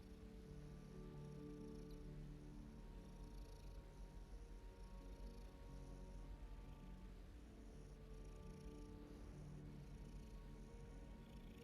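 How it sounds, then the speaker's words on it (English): A cat in the video game Hogwarts Legacy purrs continuously, a soft low rumbling rhythm that holds steady and alone for the whole stretch. "Comfy enough to purr."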